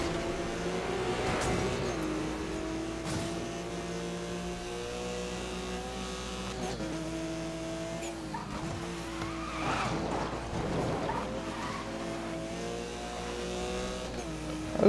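Porsche Cayman engine in the Need for Speed video game (2012), a steady droning engine note with harmonic bands that shift as it revs and eases, with tyre squeal and skidding mixed in throughout.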